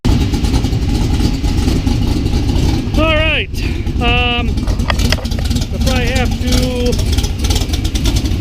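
A Classic Roadsters Cobra engine idles while warming up in a windy garage spot, a steady low rumble running throughout beneath a man's speech and gusty wind noise.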